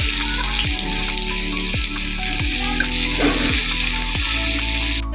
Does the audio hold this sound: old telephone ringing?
no